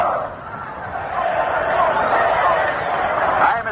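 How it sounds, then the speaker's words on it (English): A stadium crowd sends up a sustained Army cheer at the 1946 Army vs. Notre Dame football game, a steady distant roar heard through a thin, narrow-band old radio broadcast. "We're just about to go down there to pick up an Army cheer, and here comes one now."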